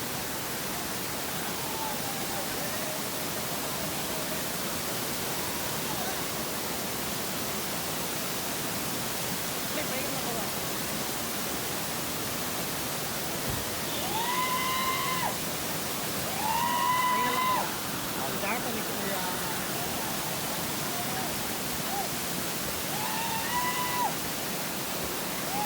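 Amboli waterfall in Maharashtra during the monsoon, a constant dense roar of falling water near and loud throughout, with a few brief voices or calls rising over it midway.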